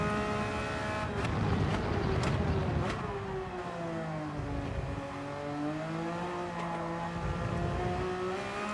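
Race car engine in Gran Turismo 7 accelerating out of slow corners, loud and close, revving up through several gear changes with rising and falling tones.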